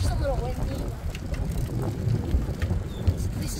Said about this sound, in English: Yeah, it's just a little windy